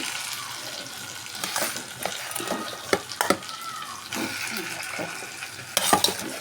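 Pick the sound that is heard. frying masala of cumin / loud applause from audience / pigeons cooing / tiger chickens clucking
frying masala of cumin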